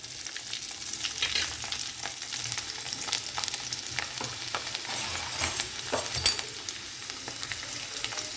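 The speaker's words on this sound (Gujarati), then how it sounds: "લસણ થોડું સંતળાઈ જાય" Garlic sizzles in hot oil with a pinch of asafoetida and turmeric while it is stirred for a Kathiawadi eggplant dish. The frying hiss runs steadily throughout, with scraping stir sounds on top and no talking.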